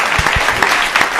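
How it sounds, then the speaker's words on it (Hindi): A brief burst of audience applause at a Hindi comedy poetry gathering (hasya kavi sammelan), loud and close, with scattered hand claps filling about a second. "तालियां बजा करके माहौल दे दीजिए।"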